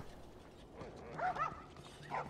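Dogs bark and yip briefly in The Last of Us Part 2, a few short, faint barks heard at a distance in a quiet game scene.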